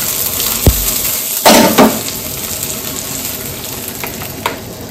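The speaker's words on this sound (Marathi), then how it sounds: "या चटणीमध्ये फोडणी द्यायची।" A hot tempering of oil with mustard seeds, asafoetida and curry leaves is poured into coconut chutney, giving a sharp clank and then a brief sizzling burst that fades to a soft steady hiss, close and without talk.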